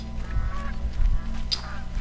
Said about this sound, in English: Canadian goose. Those things are known to be really aggressive.